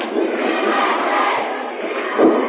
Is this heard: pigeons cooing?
no